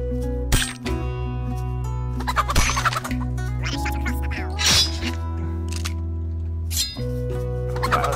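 A chicken in the Pixel Piracy video game clucks and squawks in short bursts while fighting, set against layered tonal game music and brief clinking hits.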